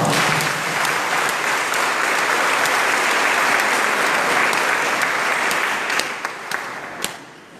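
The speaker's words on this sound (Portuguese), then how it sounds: "A vocês também, uma calorosa salva de palmas." A congregation at a Catholic Mass gives a warm round of applause: steady, dense clapping that holds evenly, then thins to a few scattered claps at the end.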